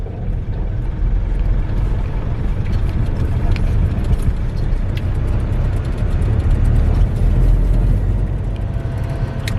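A car drives slowly along a rough, badly kept dirt road leading onto a farm in Africa, with a steady, loud low engine and road rumble throughout, jolts and rattles from the uneven track, and no talking.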